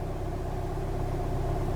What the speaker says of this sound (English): the engine actually idles a little higher as well